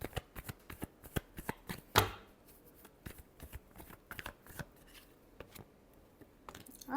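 Tarot cards being shuffled, a quick series of crisp papery taps and riffles, close and fairly quiet, with one sharper snap partway through.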